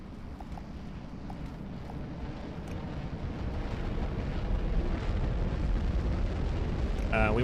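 A rocket launches in the factory-building video game Automation Empire, a broad, roaring rumble that holds steady and then swells louder and fuller toward the end, with no speech over it.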